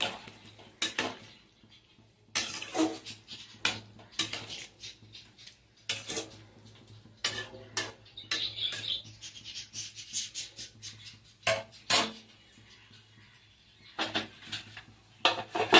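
Metal utensil stirring vegetables in a pot of Bengali sukto, then a lid set on with clinks and scrapes; sharp intermittent clatters close by, separated by quiet gaps.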